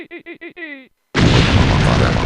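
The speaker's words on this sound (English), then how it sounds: "Fire the cannons." A cannon blast in a video game, a broad, heavy roaring burst that rumbles for over a second, coming right after a short spoken line and a brief pause.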